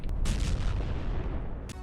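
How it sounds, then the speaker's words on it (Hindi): Explosions go off at an oil depot on an airfield, a heavy booming blast with sharp cracking onsets at the start and end, loud and close over a dense low rumble. "एयरफील्ड में मौजूद ऑयल डिपो में लगातार धमाके भी हो रहे हैं।"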